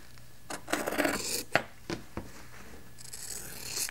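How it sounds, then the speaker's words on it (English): Scissors cut through quilt fabric, batting and backing for a small mug rug, making a string of crisp snips and rustling drags, with soft rubbing sounds from the fabric being handled. "I can either take my rotary cutter or I can just take my scissors and cut it down"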